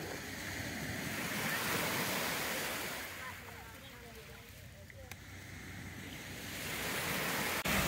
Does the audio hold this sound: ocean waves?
yes